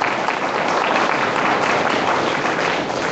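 Dense, steady applause from an audience at a public-servant integrity lecture at a city hall, a continuous wash of clapping with no pauses.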